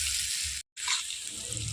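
Onions frying to light brown in a pan for a young goat mutton curry, a loud steady sizzle with a brief break before the hiss resumes.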